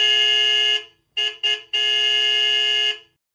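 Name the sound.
car horn honking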